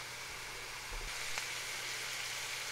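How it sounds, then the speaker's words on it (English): Fat sizzles steadily in a pan as the base for a roux-style gravy for biscuits and gravy, giving a constant, fairly quiet hiss with a faint tap partway through. "can you see that fat in there just sizzling away?"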